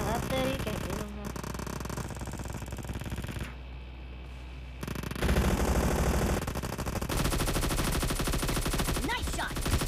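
Gunfire in the mobile battle royale game PUBG Mobile during a team deathmatch, rapid automatic rifle bursts that run almost without a break and grow louder partway through, with players talking over the shooting.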